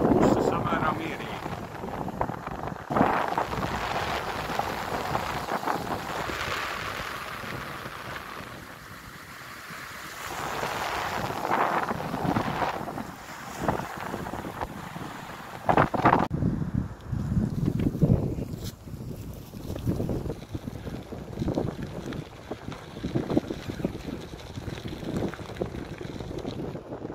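Southeast wind blowing steadily across the Cape Kolka coast of Latvia, roaring into the microphone alongside surf noise, with a person talking over it for much of the time.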